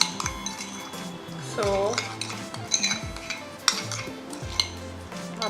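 A blackhead remedy mixture stirred in a bowl, close spoon clinks and scrapes in an uneven rhythm with a brief ringing tap, a single spoken word at the start.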